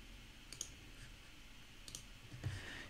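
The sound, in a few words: computer mouse click in a webinar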